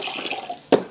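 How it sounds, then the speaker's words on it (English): Water splashing and trickling as it is poured out of a fodder growing tray, close and brief, ending in a couple of sharper splashes. "I'll dump any water out"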